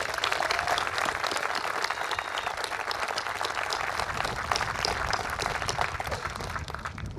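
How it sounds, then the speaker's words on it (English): At a military change of command ceremony, a crowd gives steady, dense applause that continues without a break throughout. "Please join me in a round of applause for Wendy."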